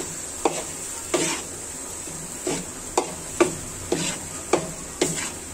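Spice paste with ginger, garlic and jackfruit being stirred and fried in a pan, a steady soft sizzle broken by about nine short scraping strokes of the spoon at a slow, regular pace, close by with no talking.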